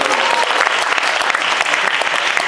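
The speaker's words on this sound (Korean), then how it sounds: "박수 한번 주게요" Sustained, even applause from a school audience at a high-school humanities festival, many hands clapping loudly and continuously with no talk over it.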